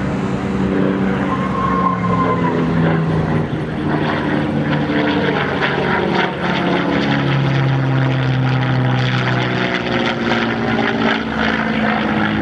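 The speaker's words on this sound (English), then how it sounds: "Here he comes by in another pass. Quicksilver, the P-51 Mustang." A P-51D Mustang makes a pass at an air show, its propeller engine droning loud and steady throughout, with the pitch sliding downward as it goes by, no talking.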